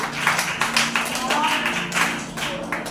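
A congregation at a Hindi-language church service claps steadily and densely, filling the room with close, continuous clapping while voices carry on over it.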